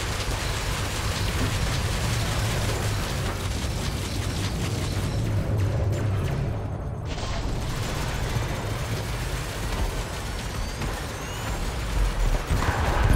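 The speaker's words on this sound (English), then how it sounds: "So let's drop some more chaff and start opening up with our multi-cannons" Multi-cannons on a Federal Dropship pound an Anaconda in Elite: Dangerous, a dense, continuous rumbling barrage of rapid booming shots with a brief lull midway, loud and steady throughout.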